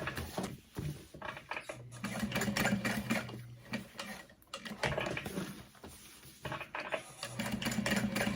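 A sewing machine stitches slowly around a bag label in several short runs of quiet, rhythmic needle chatter, separated by pauses and small handling sounds.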